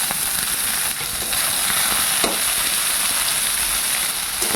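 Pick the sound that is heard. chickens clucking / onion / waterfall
onion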